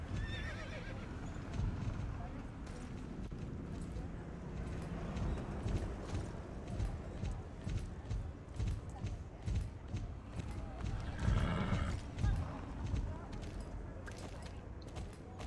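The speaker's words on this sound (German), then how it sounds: "Pferd." Horse sounds from the online game Star Stable Online: a neigh and whinny over steady clip-clop of hooves with some creaking, fairly quiet, with a loud whinny near the end and talk in the background.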